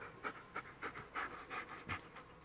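A dog pants in quick, steady breathy puffs in the Blair Witch video game, soft and fairly close, with no talking over it.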